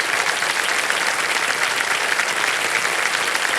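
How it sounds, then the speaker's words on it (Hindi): Studio audience applause on a Hindi quiz show set, a steady, dense wash of clapping that fills the whole stretch without pause, close and fairly loud, with no talk over it. "तालियां बज जाएं इनके लिए।"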